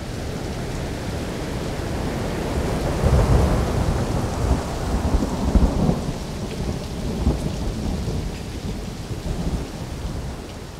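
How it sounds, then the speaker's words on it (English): Deep thunder rolls and rumbles for several seconds, swelling in the middle and fading slowly, under a steady hiss like rain. "sound recordists happen to get a crack of thunder with no rain"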